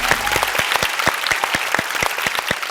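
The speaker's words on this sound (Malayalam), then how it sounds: "എല്ലാവരും ഒന്ന് കൈയടിച്ച് ഹാപ്പി ആയിട്ട്" Studio audience at a TV talent show stage clapping together, a steady rhythmic applause with sharp regular claps, moderately close and sustained.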